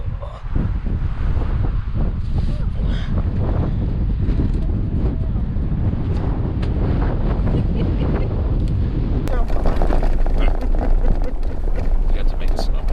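Strong, cold, snowy wind in Nevada's White Rock Range buffets the microphone with a loud, rumbling roar throughout, gusting without pause, with a voice faintly mixed in beneath the noise.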